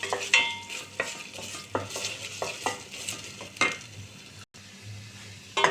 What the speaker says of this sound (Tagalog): niluto ko yung ginisa ko yung sibuyas, bawang at tomato paste